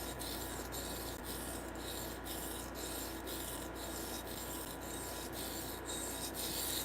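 Freehand sharpening of a knife blade by a beginner, repeated rhythmic scraping strokes of steel across a stone at about one per second, faint and steady over a constant low background hum.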